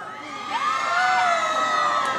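Fans at an outdoor evening concert stage scream and cheer together, a sustained high-pitched crowd roar that swells and holds loudly for about two seconds.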